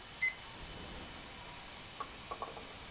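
An auction countdown timer gives a single short, bright electronic beep as it starts during a live painting auction, followed by a few faint clicks in a quiet room.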